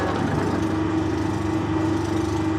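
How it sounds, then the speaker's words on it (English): A Harrison L5 lathe motor runs with the clutch engaged, a steady, even mechanical hum with a low drone and a faint whine above it, close by and unbroken, with no talk over it. "Motor's quieter than I expected."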